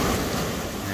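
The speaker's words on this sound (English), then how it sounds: "Surf's a little bit dangerous, be a little bit wary of the water." Sea surf breaking and rushing on a Holderness Coast beach at Withernsea during night cod fishing, a steady loud broadband wash with wind buffeting the microphone and no speech.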